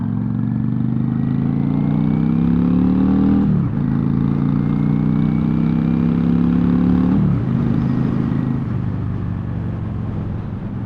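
A motorcycle cruises along the road, its engine droning steadily in a mid-pitched hum that dips twice as the rider shifts and then climbs again, loud and close throughout with no talking.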